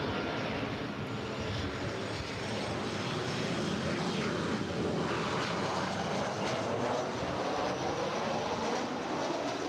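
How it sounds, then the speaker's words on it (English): A five-year-old Southwest Airlines Boeing 737-800 arriving at LAX from San Jose, a steady broadband jet roar holding at constant loudness throughout, with no voices. "This next arrival is Southwest Airlines Flight 1890 coming in from San Jose, California."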